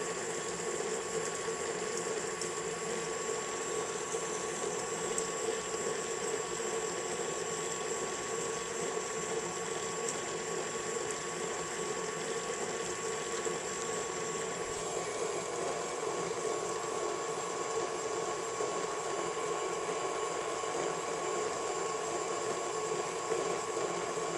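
An electric mixer creams butter and sugar for oatmeal cookie dough, giving a steady, unbroken motor whine with a faint rattling texture that holds at an even level the whole time, with no voices.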